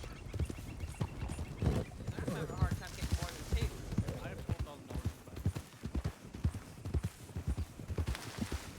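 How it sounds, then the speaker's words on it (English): Several horses' hooves clip-clop steadily on a street road, a dense, uneven patter of hoofbeats with people talking over it throughout. "That's a lot of horses."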